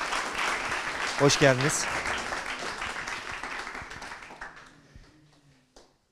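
Applause from an audience at a school tech talk rises as guest Vefa Kırbaç is introduced, with a brief burst of clapping near the start that fades gradually beneath spoken welcome words.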